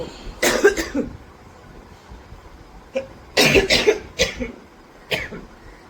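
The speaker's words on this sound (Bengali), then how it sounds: "এই কাশিটা আমাকে সহজে পিছু ছাড়ে না" A person coughs several times close up in rough, throaty bursts: a pair early on, then a cluster of harsher coughs later, with quiet gaps between.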